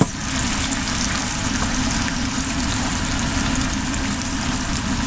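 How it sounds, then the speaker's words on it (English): Curry base of onion paste frying in a pan for a homemade korma, a steady close sizzle and crackle running unbroken from start to finish with no voices. "Fry that on for about 8 minutes"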